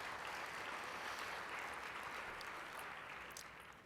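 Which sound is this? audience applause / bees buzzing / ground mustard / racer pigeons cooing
audience applause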